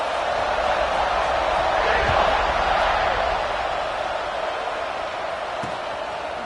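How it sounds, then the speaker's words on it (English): Steady crowd buzz filling a football stadium after a score, a dense continuous roar of many voices, fairly loud and unbroken, with a commentator talking over it. "this crowd is buzzing after that last score"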